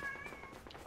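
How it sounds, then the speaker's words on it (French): A domestic cat gives one short, fairly faint meow near the start, heard over a low background hum with no talking. "Oh, oh, y'a le petit chat"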